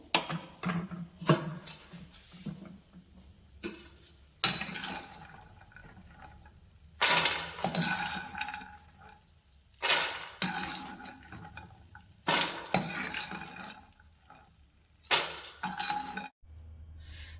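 Roasted makhana (fox nuts) being scooped out of a pan in repeated bursts of clinking and scraping of utensil against metal, close and fairly loud, with quiet gaps between.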